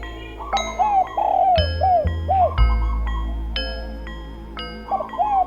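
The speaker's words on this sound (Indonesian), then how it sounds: "Suara air dan suara burung merdu." Melodic birdsong drifting through a deserted village in an Indonesian horror film, repeated clear chirps and warbling calls over a low droning ambient bed, with a few bell-like chime tones ringing out.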